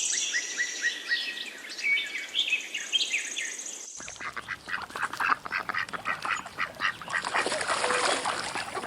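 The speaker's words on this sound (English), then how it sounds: "Duck." Ducks quacking loudly and repeatedly amid chirping birds, with a busy outdoor flock of calls continuing throughout at close range.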